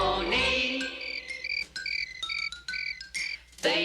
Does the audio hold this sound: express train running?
no